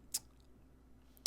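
Computer mouse clicks, two sharp faint clicks about a second apart against quiet background.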